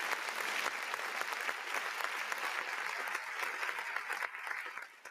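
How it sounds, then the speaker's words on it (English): A crowd applauds steadily and loudly for several seconds, dense clapping with a few voices mixed in, easing slightly at the end. "Give him a clap, guys."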